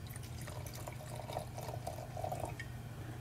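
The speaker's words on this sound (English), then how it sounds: "I'm going to pour just a little bit of the Chardonnay here in the glass" White Chardonnay wine poured into a glass, a steady thin trickling pour lasting a few seconds, close and fairly quiet over a low room hum.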